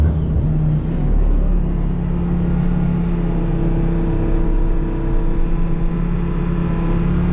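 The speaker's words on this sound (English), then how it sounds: "try to just hook it up to the truck and see if I can just back out and spin it off" A brand new pickup truck backs away while hooked to a forestry mulcher, an ASV RT-75, its engine holding a steady, loud, close rumble with a revving strain that runs the whole time, no talk.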